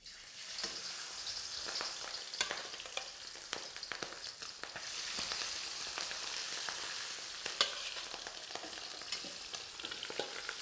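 Prawns shallow frying in a hot wok, Cantonese style, give a close, continuous sizzle broken by frequent sharp crackles and spits, with the hiss swelling louder at intervals as the oil reacts.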